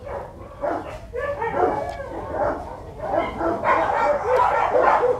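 Several H'mong bobtail dogs bark, yip and whimper in quick overlapping bursts at close range, a lively pack of young pups and adults calling over one another with steady background noise.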